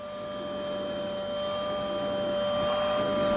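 A vacuum cleaner fitted with a nozzle cleans dust and hair from panels aboard the International Space Station, a steady airy whoosh with a faint tonal whine underneath, rising slightly in loudness.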